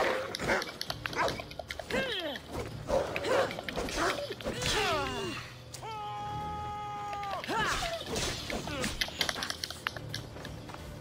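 Packs of dogs bark and yip repeatedly in Assassin's Creed Odyssey while fleeing Spartan soldiers, loud and close, with someone talking over the barking throughout.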